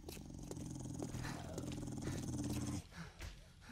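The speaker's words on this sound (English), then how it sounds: "Got some dogs down there." Dogs in the survival game 7 Days to Die, a low sustained growl rumbling near and loud for a few seconds before cutting off into quieter snarls.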